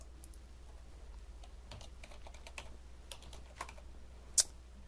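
Sparse, quiet keystrokes on a computer keyboard tap out an answer, scattered irregularly over a low steady hum, with one sharper click near the end and no talking.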